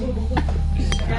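Glasses clink together in a toast at a gathering, a couple of bright chinks over a low steady background hum with faint voices around.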